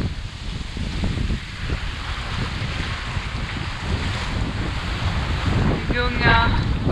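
Strong wind buffets the microphone over the rush of waves about 2 metres high on the Ionian Sea, heard from a sailboat, a loud, continuous roar with no letup.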